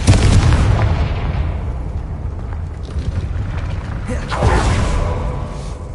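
A Confringo blasting spell in the Hogwarts Legacy video game strikes a gate, giving a loud, rumbling boom and creaking crash that swells at the start and again near the end.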